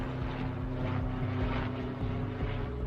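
A helicopter drones loudly overhead as it flies over a property toward the jungle, with a continuous rotor thrum and a steady pulsing beat, close and unbroken throughout.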